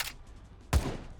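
Rifle fire from a FAMAS in the video game BloxStrike: a faint crack right at the start, then one loud, sharp gunshot with a short decaying tail, heard alone.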